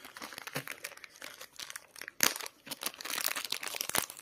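A coin wrapped in a paper napkin is unwrapped close by, giving soft crinkling and rustling with a few sharper crackles, intermittent and quiet.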